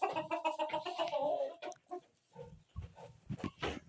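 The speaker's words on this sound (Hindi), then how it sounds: "ये मुर्गी है" A hefty hen clucks and squawks close by in a series of short, irregular calls that start busy and loud, then break into scattered bursts with brief pauses between them.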